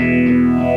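Guitar through a Mobius pedal set to phaser in pre-post mode, a short, loud, sustained chord with a gritty, swirling modulated tone and no voices.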